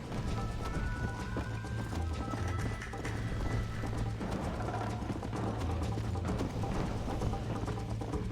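A horse gallops in Red Dead Redemption with a continuous rhythmic clip-clop of hooves under a layer of ambient game sound. The pace holds steady and close throughout.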